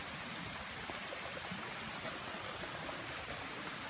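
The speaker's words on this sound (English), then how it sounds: "Listen to the water." Stream water rushing at the Gulf Hagas waterfall in Maine, a steady broadband roar that holds even and continuous throughout, close and unbroken by voices.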